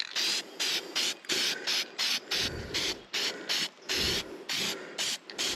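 Cheap Walmart spray paint being applied to a trailer winch mount, with about a dozen short, loud hissing bursts in a quick stop-start rhythm, close up and alone.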